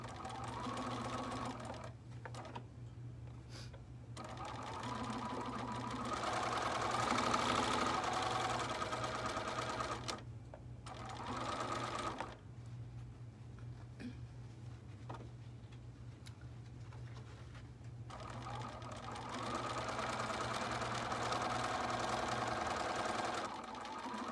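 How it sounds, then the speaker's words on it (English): A sewing machine hums in long runs with brief stops, backstitching through quilting-weight cotton while making a lined hat, fairly quiet and steady with little talk. "did a little back stitching there again"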